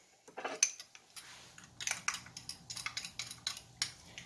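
A spoon stirs a cornstarch sauce mix in a bowl with quick, irregular clinks and scrapes, close up, bursts clustering into rapid runs with short pauses and no talking.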